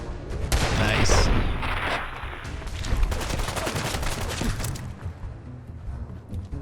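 Gunfire from a gun in Fallout 4 rattles in rapid bursts, loud and close, with a heavy opening volley followed by quicker crackling shots that fade toward the end.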